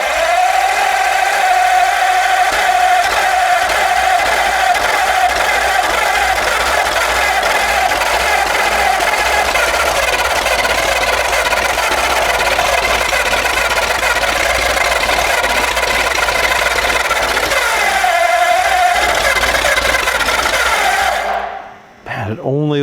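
Flathead V8 engine running at full throttle on a homemade run stand, roaring loud and steady from nearby for about twenty seconds before cutting off abruptly at the end, with talk partly buried under it.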